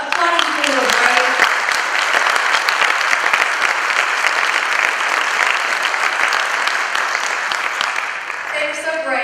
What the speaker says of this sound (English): Would you all join me in just applauding people who are brave?